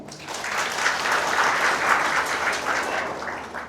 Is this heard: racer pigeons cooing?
no